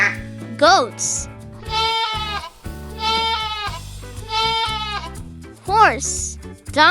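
Goats bleat in several long, wavering cries over cheerful children's music, each bleat loud and close, separated by short musical gaps.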